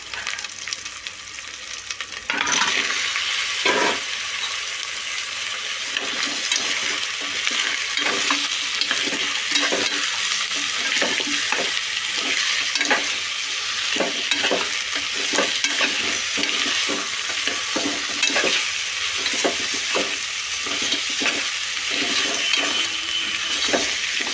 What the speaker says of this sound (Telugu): ఇప్పుడు కాళ్ళు వేసుకుందామండి.